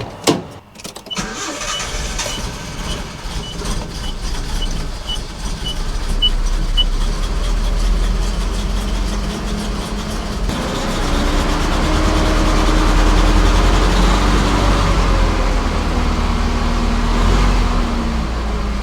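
A Nissan 720 pickup truck cranks and fires up, then settles into a steady, loud idle that continues to the end with no talking. A cylinder may be misfiring at first.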